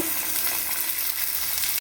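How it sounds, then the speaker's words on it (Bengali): Onions and green peas frying in a pan, a dense steady sizzle heard close and loud for under two seconds before cutting off abruptly. "পেঁয়াজটা অল্প ভাজা হয়ে যাওয়ার পর মটরশুঁটিটা দিয়ে দিলাম।"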